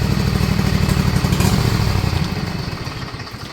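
A zero-turn lawn mower engine runs close and loud with an uneven, surging idle, its rapid chugging pulses steady at first and then fading somewhat toward the end.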